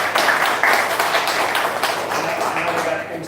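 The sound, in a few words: applause for a guest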